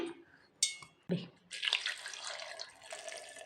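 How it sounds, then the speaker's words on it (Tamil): A couple of clinks, then water pours steadily into a cup of ice and sugar for orange juice nearby, a bright continuous splash that fills the rest. "ஒரு கப்பு தண்ணி ஊற்றிக்கலாங்க"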